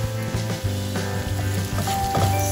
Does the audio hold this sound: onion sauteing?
yes